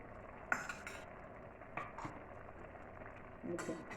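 A spoon stirs shukto of bitter gourd leaves, ash gourd, jaggery and ghee in a cooking pan, giving a few faint, scattered clinks and scrapes over a quiet background.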